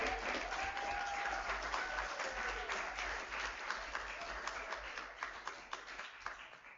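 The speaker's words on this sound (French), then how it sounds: "On laisse Carrie les applaudir avec nous." Audience applause at an improv comedy show in a bar setting, a sustained crowd of hands clapping that gradually thins and tapers off toward the end, with faint voices mixed in.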